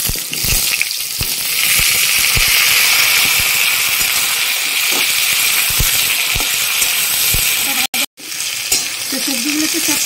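Mixed vegetables with panch phoron and bay leaves frying in hot oil, a loud steady sizzle with crackling pops that runs continuously, briefly cut off near the end before resuming.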